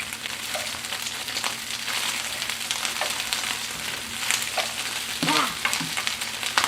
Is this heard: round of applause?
no